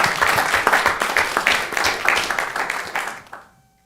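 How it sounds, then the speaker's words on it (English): Applause from the audience at a city council meeting, a dense wash of clapping for about three and a half seconds that fades quickly into near silence. "Let's give them a round of applause."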